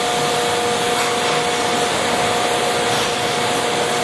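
A Monarch 27.5 by 144 inch engine lathe runs at spindle speed, giving a steady, loud broadband whir with a faint constant tone through it and no talking.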